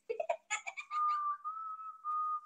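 A whistle gives a quick chirpy flourish and then a long steady blast, followed by a second sustained blast, loud and close with no talk.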